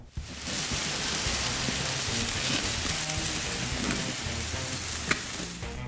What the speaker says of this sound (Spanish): Este es el sellado y ahorita le vamos a dar un toque bien especial con nuestra mantequilla de tequila.